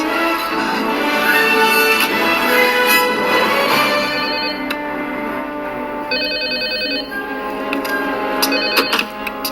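A telephone rings in the LEGO Jurassic Park movie, a steady electronic ringing that repeats over a dense musical and ambient background, fairly loud and continuous.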